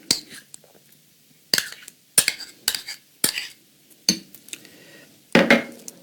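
A spoon clinks and scrapes against a bowl while tomato paste is mixed with paprika and garlic powder for a vegan pizza sauce, in short bursts of clatter separated by pauses.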